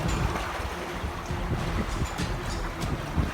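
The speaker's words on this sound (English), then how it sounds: "You hear the waves." Ocean waves wash and splash around a sailing catamaran on the South Atlantic. The churning is broad and continuous, with irregular surges and slaps against the hull, and no one talks.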